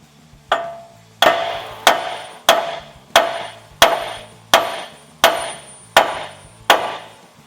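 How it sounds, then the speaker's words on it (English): Nine heavy metallic blows from a big hammer striking a steering knuckle on a 2014 Chevy Silverado ring out at an even, deliberate pace, each sharp strike followed by a brief decaying clang. "I'm going to go ahead and hit the side of the knuckle"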